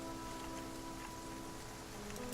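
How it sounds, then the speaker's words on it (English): Steady rain falls in The Flame in the Flood, a soft continuous wash of drops with faint tonal game ambience running beneath it and no talking. "It's just rainy."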